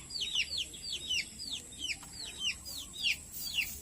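Three chickens in a freshly cleaned coop, eating and scratching, give repeated sharp, clear clucks and squawks in a steady rhythm, close and fairly faint over a quiet background.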